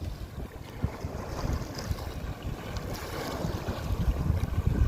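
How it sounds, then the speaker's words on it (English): Rough river water churned by a coming storm and strong high wind roar steadily like ocean surf, a continuous close wash of waves and wind buffeting the microphone with no voices. "The water is rough from the storm coming in, and it sounds like I'm sitting at the ocean."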